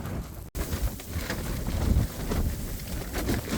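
Strong, gusty wind in a mountain blizzard roars steadily across the microphone, loud and close, with a brief dropout near the start and no talking.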